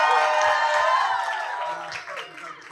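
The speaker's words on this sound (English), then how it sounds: "And my video director, clap it up for them too." An audience claps and cheers at a youth motivation event in the Bronx, a dense wash of applause that slowly thins out, with a few whoops and an amplified voice speaking faintly underneath.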